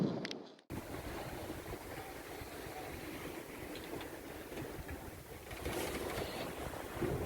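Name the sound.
wind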